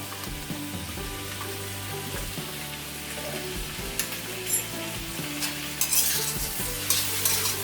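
Chicken fried rice with chilli sauce and soy sauce being stir-fried in a pan: a steady close sizzle with repeated scraping and tossing strokes, rising a little louder toward the end, with no voices.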